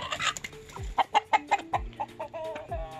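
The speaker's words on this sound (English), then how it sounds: "That's one of the roosters right there" A rooster clucks in a quick series of short, close calls, several sharp bursts in a row with brief pauses between them.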